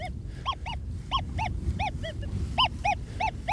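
Repeated high-pitched beeping tones from an XP Deus 2 metal detector on its Goldfield program ring out in quick pairs over a low rumbling background of wind and handling noise.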